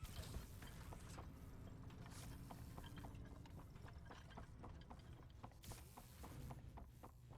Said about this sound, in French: Pourquoi j'entends des bruits de pas?